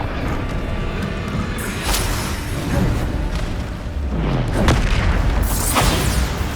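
A Bombarda explosion spell in Hogwarts Legacy, heard as a loud booming blast layered over dense game-combat noise, with sweeping whooshes and rumbling impacts.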